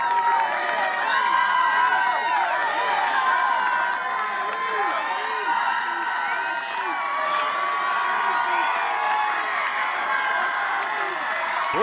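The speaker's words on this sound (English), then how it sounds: "Listen to this crowd." A baseball crowd between Easley, SC and Irmo, SC cheers and roars steadily on a full count, dense shouting, whoops and applause sustained loud throughout with no pause.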